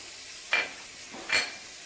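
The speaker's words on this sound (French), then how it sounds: "Et je fais revenir ma viande." Meat browns in a Cookeo multicooker, with two short stirring scrapes breaking through a quiet, steady sizzle.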